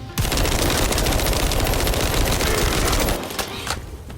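Rapid automatic gunfire from a weapon in The First Descendant, a loud, dense burst of shots that rattles continuously for about three seconds before breaking into a few separate final shots.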